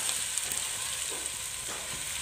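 Onion fries in hot oil with garlic-ginger paste and green chilies in a pan, giving a steady close sizzle and crackle with light stirring scrapes.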